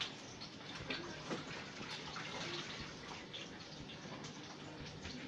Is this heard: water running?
yes